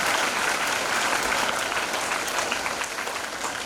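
Steady audience applause fills a school Pongal celebration at a girls' higher secondary school, a dense, continuous wash of many hands clapping at even loudness throughout, with no voices standing out.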